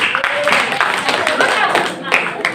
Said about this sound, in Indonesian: Tepuk tangan untuk Rindiani.